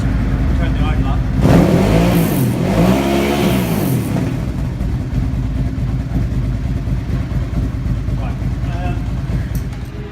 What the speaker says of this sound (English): we're going to see in a second on whether it fires up and how it runs